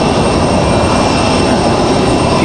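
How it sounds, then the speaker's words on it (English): A Delta jet airliner taxiing toward the end of the runway at Raleigh-Durham International Airport, heard as a loud, steady broadband engine roar with a faint high whine. "Got another Delta headed to the end of the runway there."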